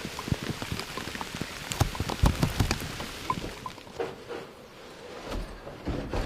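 Rain falling outdoors on Midwest farmland during winter deer scouting, a dense patter of close drops and sharper taps on nearby surfaces, heavier at first and then thinning out, with no voices.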